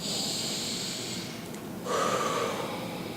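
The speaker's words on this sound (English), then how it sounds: "Take a nice breath." One slow, deep breath is drawn in and then let out during a calm tapping exercise, close and soft, with no talking.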